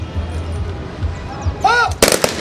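A 21-gun salute volley at an Armed Forces Remembrance Day ceremony: a loud, sharp gunfire burst follows a shouted command, over low outdoor background rumble.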